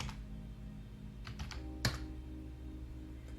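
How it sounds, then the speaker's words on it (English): Typing a password on a computer keyboard: a handful of quiet keystrokes, a few soft taps, then one sharper key press, heard close over a low background hum. "And then I will go in here and I will put in my trusty password."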